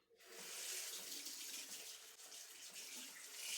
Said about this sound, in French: je vais tout simplement rincer la cuillère